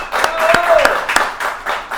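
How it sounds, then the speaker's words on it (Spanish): A studio audience greets a guest with sparse, distinct hand claps from only a few people, spaced in an uneven rhythm, while a voice is faintly present underneath. "fuerte el aplauso para ella"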